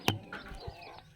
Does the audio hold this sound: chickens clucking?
yes